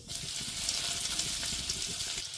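Garlic frying in a couple of spoons of oil in a kadai, a steady close broadband sizzle with faint crackle and stirring throughout, no talk.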